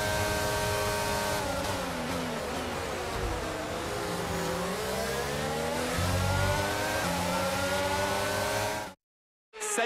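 Formula 1 car engine from the F1 22 racing game on a return lap, a loud continuous high-pitched whine rising and falling through gear changes, cutting to brief silence near the end.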